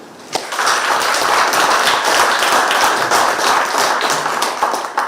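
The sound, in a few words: audience applause at award ceremony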